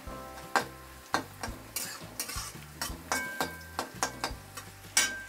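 Curry leaves sizzle in hot oil with roasted onion for a spicy Maharashtrian chicken dish, a soft steady frying hiss broken by regular scraping stirs of a spoon against the pan, quiet and close, with no talking.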